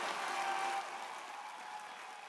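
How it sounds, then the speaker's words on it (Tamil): Faint, distant applause from an audience at a Diwali celebration, a steady wash of hand clapping that is loudest at first and then eases slightly. "உங்களுடன் கைதட்டல் பெரிய பெரிய கைதட்டு"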